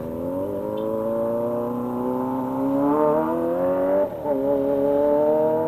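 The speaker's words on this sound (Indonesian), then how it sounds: "Selamat menikmati suara dari ZX 25R guys" Kawasaki ZX-25R four-cylinder motorcycle engine revving at Serangan, a loud, sustained high-pitched wail with rising and falling pitch sweeps, heard alone with no talking.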